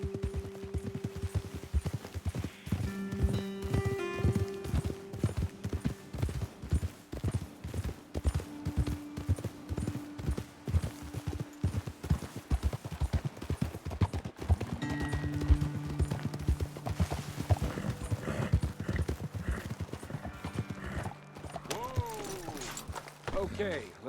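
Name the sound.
horse hooves clip-clopping while riding, Red Dead Redemption 2 video game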